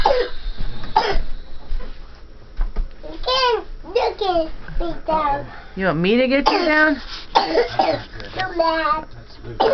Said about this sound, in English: We gotta do something about that cough.